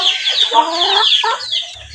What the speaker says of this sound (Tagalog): yun pala ay isang manok-manok yan